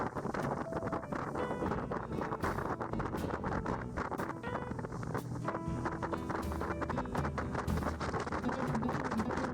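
A motorboat in the Pantanal wetlands of Brazil runs at speed with the throttle pushed forward, giving a dense, continuous engine roar mixed with heavy wind buffeting on the microphone, loud and unbroken throughout.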